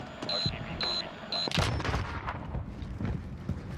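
Gunfire from a PPSh submachine gun in the Call of Duty Warzone video game: a dense, rapid burst of shots starts after a few short electronic beeps and continues under game noise and voices.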